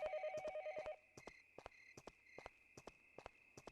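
An old-fashioned telephone rings in the horror game Yomawari, a rapid trilling bell that sounds for about a second and then stops, followed by a run of sharp, evenly spaced clicking footsteps.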